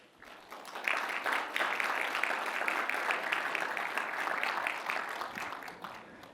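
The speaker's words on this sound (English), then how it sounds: "So please stand up and give another round of applause." A conference audience gives a round of applause for a guest at a partner awards session, the clapping swelling in after a quiet start and holding steady and even, a little distant and moderately soft.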